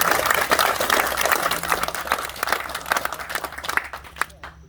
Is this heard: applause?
yes